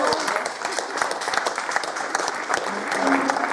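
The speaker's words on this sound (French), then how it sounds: "moi je demande des applaudissements." Sustained audience applause at a songwriting workshop gathering, dense and close, with steady clapping filling the whole stretch and a few faint voices mixed in.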